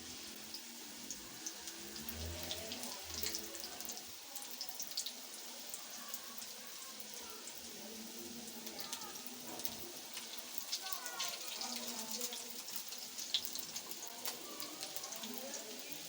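Chicken vegetable samosas fry in hot oil with a dense, continuous crackling sizzle, like light rain, while someone talks over it.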